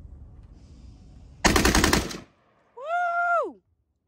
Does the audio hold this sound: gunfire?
yes